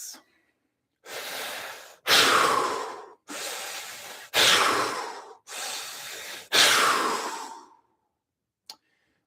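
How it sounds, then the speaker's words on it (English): Three big, deep breaths during a relaxation exercise, each a loud close inhale followed by a long exhale, evenly paced and alone. "3 big breaths."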